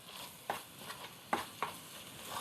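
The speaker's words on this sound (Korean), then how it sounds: "많이 볶아주세요." Ingredients for chicken porridge stir-fried in a pot, with a few soft sizzling stirs and scrapes, quiet and fairly close, no voices.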